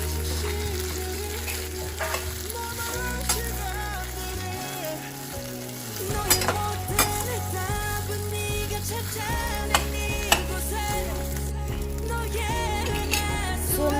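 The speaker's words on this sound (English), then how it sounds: "now we are going to mix the idli and the masala properly" Idli pieces tossed with masala in a hot pan, a steady frying sizzle with stirring scrapes running throughout.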